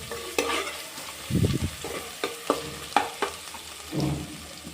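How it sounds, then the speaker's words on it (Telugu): Ginger garlic paste and turmeric frying in oil over medium heat, a soft sizzle under irregular scraping stirs of a spoon against the pan, close and moderately loud. "పసుపు, అల్లం వెల్లుల్లి పేస్ట్ని ఫ్రై చేసుకోవాలి ఒక 1 మినిట్ వరకు"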